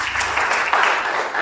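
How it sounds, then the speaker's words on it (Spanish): Warm welcoming applause from a lecture audience at the Universidad Autónoma de Nuevo León for maestra Cantú, a short burst of many hands clapping at close range. "Le damos un caluroso aplauso de bienvenida a la maestra Cantú."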